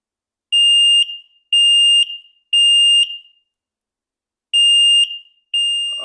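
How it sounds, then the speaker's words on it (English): An X-Sense smoke and CO alarm sounds in loud, shrill electronic beeps in a steady rhythm, three in a row, a gap, then two more, the last cut off and muffled as it is covered over. "I had to put my finger over the alarm because I have neighbors next door."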